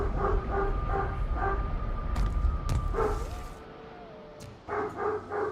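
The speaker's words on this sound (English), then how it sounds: "dog's going crazy upstairs" A dog barks excitedly upstairs, a rapid run of sharp barks and yips that stops, then resumes briefly, heard indoors over a faint steady hum.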